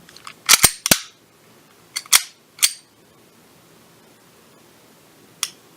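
An airsoft pistol trigger is pulled and reset repeatedly, giving sharp clustered clicks in quick bursts separated by quiet pauses, close and clear with no talking.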